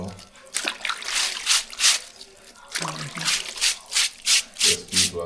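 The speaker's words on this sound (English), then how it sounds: "hand wash clothes, you see? Jamaican style." Clothes being washed by hand in water, Jamaican style, with rhythmic close sloshing, rubbing and splashing strokes, and voices talking nearby.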